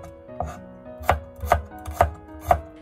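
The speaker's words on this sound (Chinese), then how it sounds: "接着再准备几个大蒜子，把它切成。" A knife chops garlic cloves on a board in a steady run of about six crisp, close thuds, evenly spaced and with no talking.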